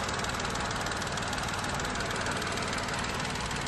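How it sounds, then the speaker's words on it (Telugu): A 2019 Tata Nexon XE petrol car with 60,000 km idles steadily, its engine giving a close, even, unbroken hum and clatter for a few seconds, with no talking. "ఇది బండి ఇంజన్."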